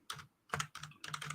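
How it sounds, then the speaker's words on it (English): Someone types frantically on a computer keyboard, with four quick, close bursts of clattering keystrokes separated by brief pauses. "you can probably hear me frantically typing away"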